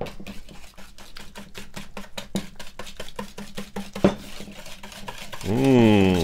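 Batter for whiskey date, fig and walnut bread gets stirred in a bowl after sugar is added to butter and egg, giving steady rhythmic scraping and clinking strokes, close and fairly loud, with a brief louder clatter near the end.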